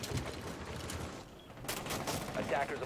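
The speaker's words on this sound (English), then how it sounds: "We will see Buck throw a few rounds at the player positioned on cache there." Buck's rifle gunfire in a Rainbow Six Siege esports match on the Clubhouse map, heard as rapid bursts of shots that pause briefly and then resume, mixed with game noise and faint voices.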